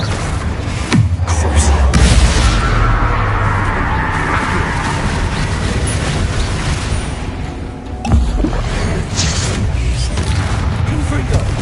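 Confringo fire spell blasts in Hogwarts Legacy, heard as loud bursts and booms among layered game effects, with a sharp impact near the start and another near the end, under talk.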